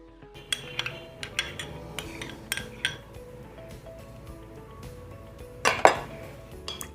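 An egg seasoned with salt and black pepper being beaten in a dish, a utensil clinking sharply against it in irregular taps and scrapes, with one louder cluster of clinks near the end.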